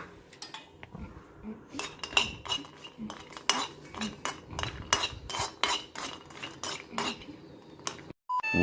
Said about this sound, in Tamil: முந்திரி பருப்பை பொன்னிறமாக வறுத்தெடுக்கணும்